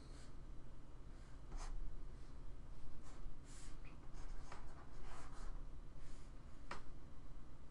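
Pen nib scratching and tapping on a Wacom Bamboo Create tablet, a series of short close strokes over a soft constant background hum.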